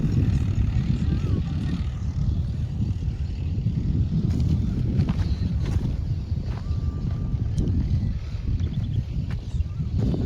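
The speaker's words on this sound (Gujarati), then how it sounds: "આલી બાજુ જો પાડોશી ટ્રેક્ટર હાકે છે." A steady low engine drone rumbles continuously throughout, like a tractor working at a distance, with wind noise mixed in.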